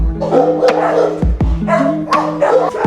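A German Shepherd with deformed legs gives several loud, close barks and yips in an uneven rhythm, with whimpering sounds between them.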